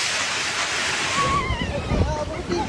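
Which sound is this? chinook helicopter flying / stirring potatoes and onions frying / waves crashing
waves crashing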